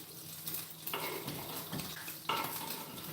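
Mince and onions fry in a pan while being stirred, a steady sizzle under scraping utensil strokes, with a couple of louder pushes through the food.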